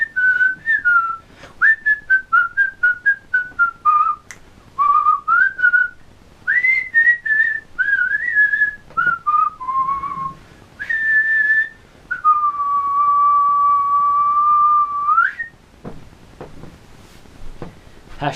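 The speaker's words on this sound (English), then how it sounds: "I can't whistle. Although I can whistle, but just not then." Someone whistles a bouncy run of short chirpy notes, then holds one long steady tone before stopping; close and clear with brief gaps.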